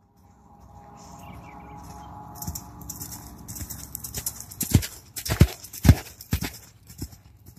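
Horse hooves canter on the ground, a rhythmic clip-clop growing louder with several sharp, close strikes in the second half, with faint insect chirps in the background.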